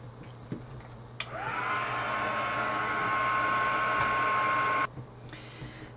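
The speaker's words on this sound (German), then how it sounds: "weil ich jetzt hier einmal föhne" A hair dryer blows on a handmade craft project, a dragon egg, with a steady whooshing roar and a high whine, switching on abruptly, running about four seconds, then cutting off, with no talk over it.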